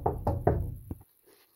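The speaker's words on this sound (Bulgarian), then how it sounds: "Нека да почукаме." Knuckles rap on an apartment door: three firm, evenly spaced knocks, then a quicker fourth, close and distinct, followed by quiet.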